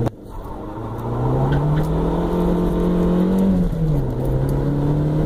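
A 1993 Toyota Corolla wagon accelerates hard from close by. The engine drone rises steadily, dips at a gear change, then climbs again, loud and with no talking.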